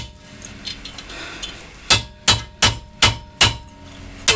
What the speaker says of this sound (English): Chisel, putting it right in along here.